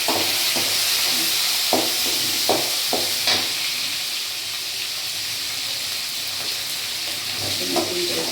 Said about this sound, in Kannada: ಹಸಿಮೆಣಸಿನ್ಕಾಯಿ ಸ್ವಲ್ಪ ಫ್ರೈ ಆಗಬೇಕು.